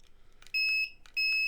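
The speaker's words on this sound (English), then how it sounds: "I don't know why that's beeping like that, but it is." Electronic beeping at an indoor basketball playoff game, two short high-pitched tones about half a second apart, clear over faint background noise.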